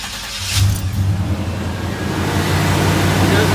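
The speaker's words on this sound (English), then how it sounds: "turn the truck off and restart it" A 1989 Chevy K1500 Silverado pickup engine turns over and catches while being tested for a bad starter, then settles into a steady low rumbling idle close by.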